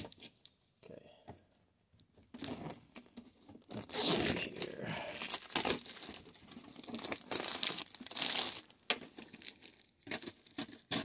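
Plastic packaging of a Funko lunchbox set is cut open and torn, giving crinkling, ripping and crackling bursts up close, with scattered clicks and a person talking in between.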